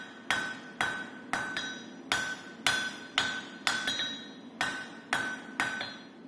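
A hammer strikes a bowie knife blade on an anvil in a forge, about a dozen loud, ringing metallic blows at an irregular working rhythm, each with a bright clang and short ring-out.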